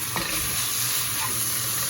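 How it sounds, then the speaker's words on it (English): Chopped garlic goes into a pan of tomato sauce being cooked for fresh pasta with shrimp, giving a steady close sizzle and bubbling with light stirring, heard alone without talk. "The next step is adding the garlic."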